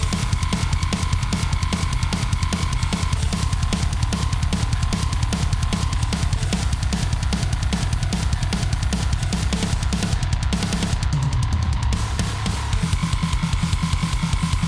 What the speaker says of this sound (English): So I've already got a drum performance and a bass performance here.